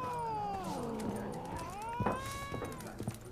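A cat in The Witcher 3: Wild Hunt lets out a long, wavering yowl that rises and falls, followed by a few softer meows over quiet game background.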